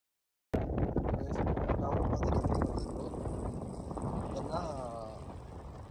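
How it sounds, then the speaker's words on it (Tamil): Strong wind at Ambuluwawa Tower in Sri Lanka buffets the microphone in a steady, loud roar with low rumbling gusts, and a voice talks faintly underneath. "காற்று அப்படியே பின்னுக்கு தள்ளுது."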